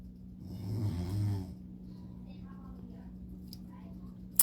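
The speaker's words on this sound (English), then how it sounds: "My husband's snoring, y'all." A man snoring nearby in a quiet room: one long, rumbling breath lasting about a second, then faint breathing and stillness, with a sharp click at the end.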